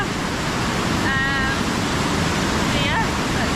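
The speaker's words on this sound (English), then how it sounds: "It has a waterfall" A waterfall at a dam by a lake in Norway, a loud constant roar of rushing water with wind buffeting and faint voices underneath.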